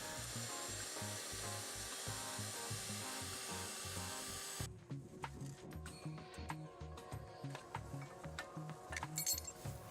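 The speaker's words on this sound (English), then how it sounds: "Here we use a magnetic base drill called a rotor broach with a custom made positioning jig." A magnetic base rotor broach drill on a custom positioning jig cuts into fresh-cut railway rail, a steady grinding machine drone with rhythmic clinking that shifts to a rougher, scraping cut partway through.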